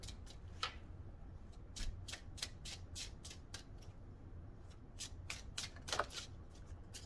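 A tarot deck being handled as a card is drawn, soft rapid riffling and flicking of cards in a quiet room, repeated crisp bursts with no talking.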